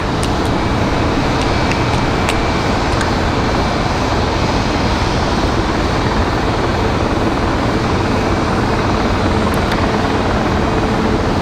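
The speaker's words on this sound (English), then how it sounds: "We've got another Southwest coming in." A Southwest airliner arrives at Raleigh-Durham International Airport with a loud, steady, broadband jet roar that holds unbroken throughout, heard from close range with no voices.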